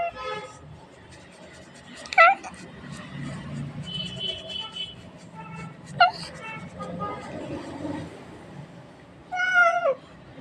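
A cat meows three times, short rising cries spaced a few seconds apart, over background chatter and low traffic rumble.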